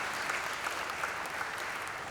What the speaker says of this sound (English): I hope everyone here will join me in giving a well-deserved round of applause to the teachers